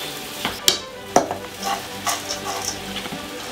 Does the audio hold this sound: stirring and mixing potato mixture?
yes